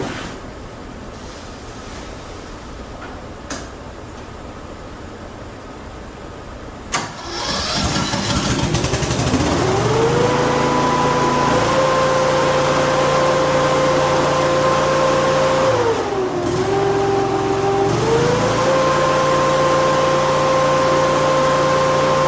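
A BMW-engined hovercraft is quiet at first, then its engine cranks and catches after about seven seconds and runs loudly, its pitch rising, dipping and climbing again as the throttle changes.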